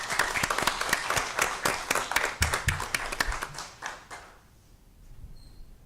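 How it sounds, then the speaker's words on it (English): Applause for students at a school district governing board meeting, a burst of brisk clapping from a modest audience that thins out and fades to near silence after about four seconds. "Let's go ahead and give them a round of applause."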